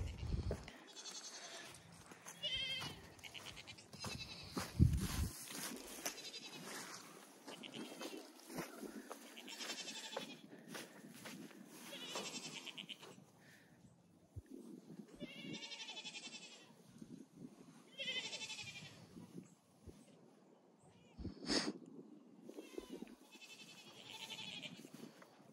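Goats bleat on a farm where a bull shares the pen, with several wavering calls at varying distances and faint rustling and movement in between.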